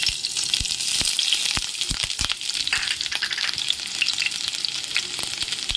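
Chillies frying in hot oil, a loud close crackling sizzle with sharp pops and stirring clatter throughout.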